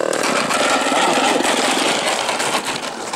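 Small glow engine of a Yak-54 RC model airplane running loud and close, a dense buzzing drone held steady with slight throttle changes.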